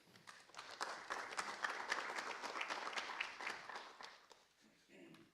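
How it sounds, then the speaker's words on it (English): An audience at a youth sustainability network launch claps for itself in a steady round of applause, dense and somewhat distant, fading out after about five seconds. "So you can give yourselves a round of applause for being here today."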